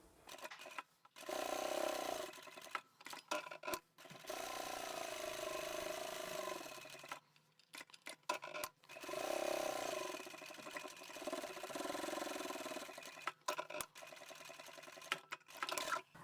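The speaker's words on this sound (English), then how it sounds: "Where the fold is, I'll do an extra stitch." A sewing machine stitching a fabric wallet made from one folded piece, running in steady whirring bursts of a few seconds each with short pauses between, close and clear, no talk.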